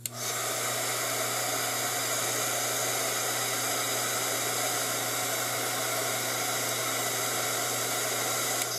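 A dryer blowing on wet paint gives a continuous, loud, steady whoosh of air with a constant motor hum, unbroken from start to finish.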